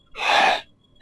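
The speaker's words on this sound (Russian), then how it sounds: "Кто такой дышит?" A creature breathes close by in the horror game Monstrum, one loud, breathy gasp lasting about half a second, followed by a faint breath.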